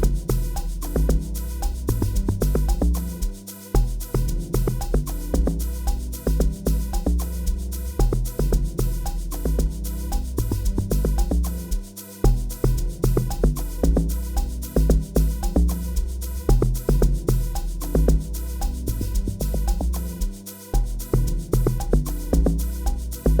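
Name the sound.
log drum bass played in a music production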